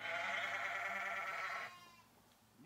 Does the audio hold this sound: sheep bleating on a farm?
yes